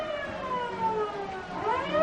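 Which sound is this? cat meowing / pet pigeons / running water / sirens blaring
sirens blaring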